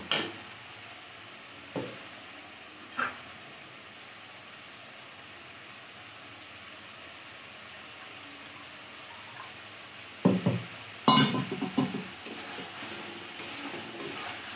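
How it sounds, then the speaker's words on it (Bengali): Water poured into hot spice paste for a tilapia curry, after the oil has separated, gives a couple of short sizzling bursts late on over a faint steady frying hiss, with a few soft clinks of a utensil earlier. "এ পর্যায়ে আমি এখন একটু জল দিয়ে দেব।"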